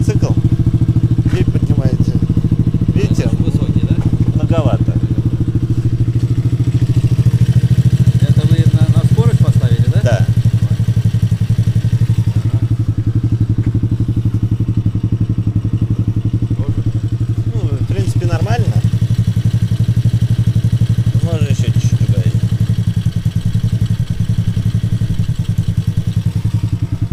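A children's MOWGLI Hardy 8 quad bike engine runs steadily at a constant mid-pitched hum, loud and close, with occasional clatter and people talking over it.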